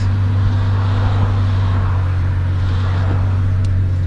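1JZ-swapped Nissan 240SX S14 Kouki on a stock ECU accelerating, a steady loud engine drone with a strong low hum heard from inside the car, continuous with no talk.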